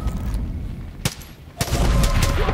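Gunfire in the Far Cry 5 video game: a few sharp, loud shots cracking out in separate bursts over a steady game background, the last ones closer together with a lingering rumble.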